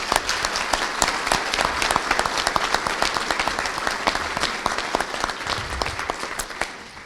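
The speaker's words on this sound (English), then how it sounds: "Let's give him another round of applause." An audience at a Thiel College Founders' Day ceremony gives a round of applause. The clapping is dense, lively and sustained, then gradually thins and fades near the end.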